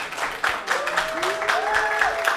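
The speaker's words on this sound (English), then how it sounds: "everybody give her a round of applause." An audience applauds a guest at a live evening talk event, a dense wash of clapping with voices rising over it, close and fairly loud.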